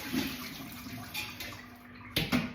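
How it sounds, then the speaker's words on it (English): Water runs and splashes as pinto and black beans are rinsed in a colander in a home kitchen, a steady, fairly quiet wash with a few louder splashes near the end. "now I'm just gonna rinse these until they're nice and clean. Keep straining them out in the colander"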